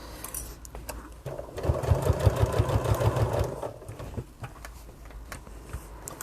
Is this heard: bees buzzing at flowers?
no